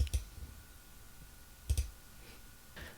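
A computer mouse gives a few sharp, close clicks in quiet, spaced irregularly with pauses between them.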